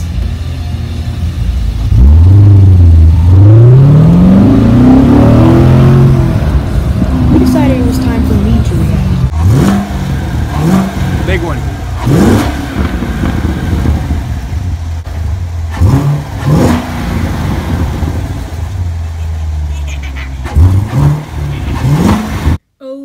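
A Chevrolet Corvette C7 Stingray's engine sweeps up through a loud, rising rev, then settles into a deep rumble punctuated by sharp throttle blips, heard up close.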